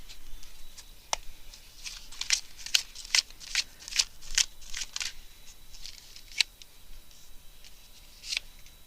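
Tarot cards shuffled by hand up close, giving crisp, papery riffles and sharp flicks in irregular bursts, with brief pauses between clusters and no talking.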